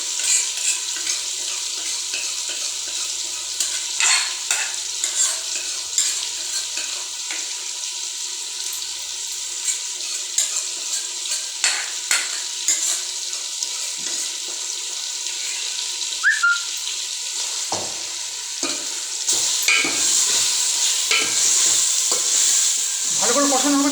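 Marinated, half-boiled chicken sautés with spices in a pot for chicken biryani, with a bright, steady sizzle and repeated scraping stir strokes near the mic. The stirring grows busier toward the end, and no one speaks.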